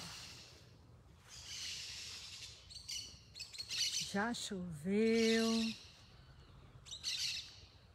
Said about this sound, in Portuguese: os passarinhos estão cantando.